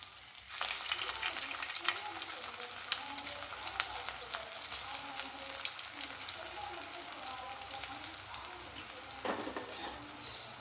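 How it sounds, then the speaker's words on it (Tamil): Soya chunk balls deep frying in hot oil over a medium flame give a steady, dense sizzle and crackle that runs the whole time, close and fairly loud, with no talking. "நல்ல மீடியம் ஃப்ளேமில் இதை நம்ம பொரிச்சு எடுத்துடலாம்"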